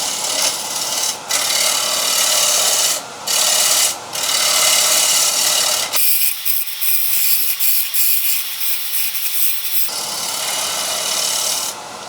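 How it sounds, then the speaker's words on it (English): A swept-back gouge shear-cuts a wooden platter spinning on a lathe, giving a steady close scraping hiss with brief lifts of the tool and a lighter stretch of cutting partway through. "Then nice and gently we can start shear cutting just with the swept back gouge."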